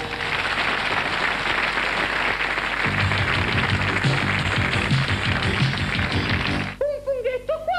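Audience applause, dense steady clapping that runs for several seconds before breaking off abruptly, with faint voices around it.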